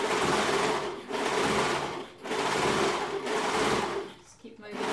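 An overlocker runs in three steady bursts while sewing the cuff onto a sweatshirt, its motor whirring loud and close with short pauses between runs.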